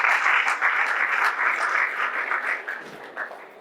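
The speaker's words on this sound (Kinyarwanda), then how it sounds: "Mufashe tubongera amashyi menshi." An audience applauds a film team at an event in Burundi, a steady wash of many hands clapping that holds level and then begins to thin and fade near the end.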